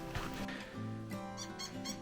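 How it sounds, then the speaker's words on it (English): A squeaky bird in the Sierra de la Laguna of Baja California Sur gives a few faint, rubbery squeaks that sound like a dog's squeaky toy, under a busy outdoor background. "We've been calling this bird the squeaky toy bird because it sounds like the inside of a dog toy"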